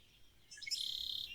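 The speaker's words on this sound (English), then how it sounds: "Red wing blackbirds." Red-winged blackbirds call outdoors, a rising chirp followed by a bright, buzzy trill that holds for nearly a second, fairly clear above a quiet background.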